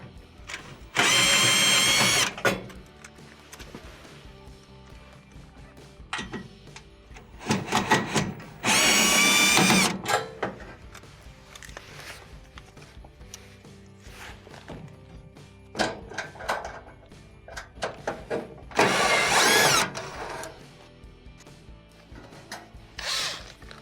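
A power drill backs out the four screws holding the rear lower cover of a Whirlpool stove, in several loud short bursts separated by quieter handling and clicking, with no talking.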